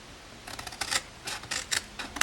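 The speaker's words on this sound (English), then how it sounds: "So we're going to cut up one of these corners and then turn it round and cut up the next one" Scissors snip into the corners of a hot pink and black card gift box, a series of quick crisp cuts in small clusters, close and quiet.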